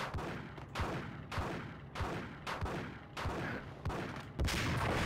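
Repeated gunshots from the video game Max Payne, a string of sharp loud bangs roughly every half second to second, each with a rumbling tail, with no talking over them.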